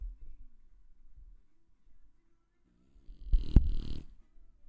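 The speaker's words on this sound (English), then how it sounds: "Could you hear that snoring before?" One loud rasping snore near the end, close and alone, preceded by quiet low rumbling breaths.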